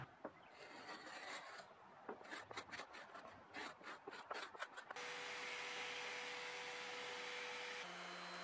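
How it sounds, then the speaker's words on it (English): Rhythmic scraping and rubbing strokes of sandpaper on an old wooden dresser's finish, fairly close, give way to a steady loud whirring drone like a power sander running continuously. "So there goes lots of sanding and sanding and sanding."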